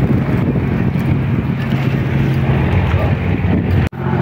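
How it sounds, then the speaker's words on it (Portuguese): A motor launch pulls away from a river port at Manaus on the Amazon, giving a steady, loud low engine rumble mixed with gusty wind buffeting the microphone, with a brief dropout near the end. "E aqui do outro lado tem a outra lancha saindo."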